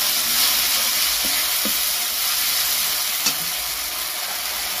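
Tomato paste hits hot oil with garlic and ginger paste in a pan for a lata fish kalia, a loud, steady, hissing sizzle close by, broken by a few faint clinks of stirring.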